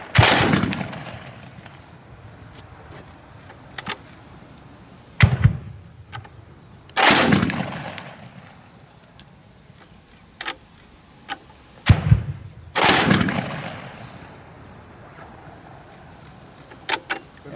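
A Heckler & Koch grenade machine gun fires live at a range: several sharp heavy reports in short bursts spread over the span, with distant thuds and clicks between them and no talk.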